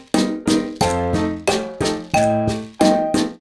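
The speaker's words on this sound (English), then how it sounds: "playing a typical cha-cha pattern for piano" Piano chords strike in a bouncy, syncopated cha-cha rhythm, each hit ringing briefly before the next, repeating a steady dance pattern.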